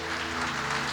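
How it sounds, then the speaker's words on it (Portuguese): Congregation applause during a church service, a continuous, even roar of clapping held over a low steady hum, brief and fairly loud. "Aplauda Ele."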